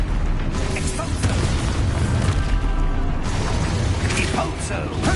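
Exposo explosion spell in Hogwarts Legacy, booming blasts and clattering mechanical bursts over busy combat noise, with a voice talking alongside the effects.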